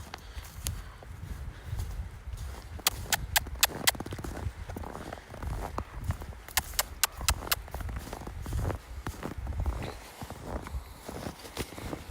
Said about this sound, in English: these horses eat the grass that's out here